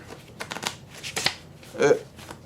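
Tarot cards are shuffled and drawn in soft, irregular riffles and flicks, close by, while a voice keeps talking over them.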